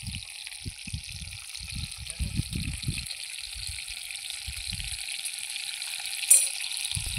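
Chicken liver frying with onions and ginger paste in a pan, a steady bright sizzle under the soft low scrape of stirring, with one brief louder crackle near the end.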